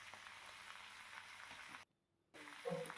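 Spring onion and other vegetables frying in a pan with salt and turmeric, giving a steady close sizzle that cuts out for a moment and then resumes with a bit of stirring.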